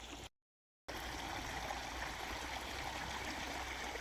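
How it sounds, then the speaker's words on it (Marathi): Water gushes steadily from a burst farm pipeline with a motor still running, a continuous close rushing wash broken by a brief cut near the start. "खळखळ पाणी चाललंय पाठीमाग फुटली"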